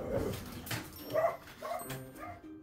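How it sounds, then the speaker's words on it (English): Several dogs bark and yip in the background of an indoor room, a few short overlapping barks over about three seconds at moderate loudness, with no talk over them. "here goes my dogs"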